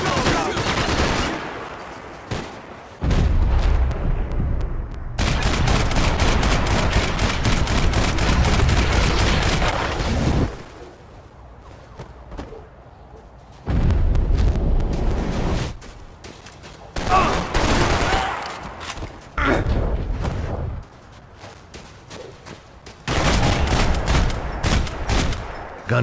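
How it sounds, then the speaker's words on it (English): Bursts of rapid gunfire erupt in several loud volleys, separated by quieter gaps, with sustained automatic fire and sharp crackling shots, in the video game Max Payne 3. "Gunfire over Hoboken."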